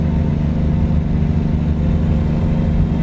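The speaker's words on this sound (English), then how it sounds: "It's a loud truck." A Volvo truck engine in American Truck Simulator drones loud and steady with a deep low rumble, close and continuous with no pauses.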